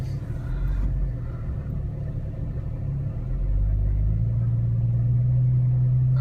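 A Jeep Cherokee crawls off-road with its rear locker engaging and a back tire slipping. Its steady low engine rumble swells louder and deeper about halfway through, then holds a firm drone.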